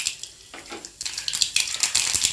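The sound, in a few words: mustard seeds sizzling in hot oil for fish curry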